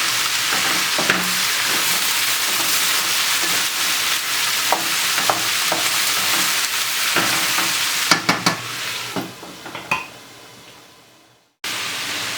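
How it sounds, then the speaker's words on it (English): Stir-fried cabbage and mixed vegetables being stirred in a pot, heard as a loud, steady sizzle broken by clattering utensil scrapes, with a burst of stirring near the end before a brief silence. "Give it a little stir."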